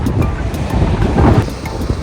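Strong wind buffets the microphone, a loud, continuous roaring rumble with no clear pauses.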